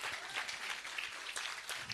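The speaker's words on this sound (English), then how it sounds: "One more round of applause for all our sponsors tonight." An audience at a filmmaking challenge event applauds its sponsors, a brief, fairly faint patter of many hands clapping with slight swells across its short span.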